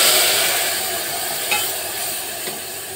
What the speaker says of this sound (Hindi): प्याज अच्छे तरीके से फ्राई हो गया है, देखिए गोल्डन ब्राउन हो गया है।